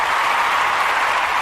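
An audience applauds a guest poet coming to the stage. The clapping forms a dense, steady, even wash of sound with no voices over it.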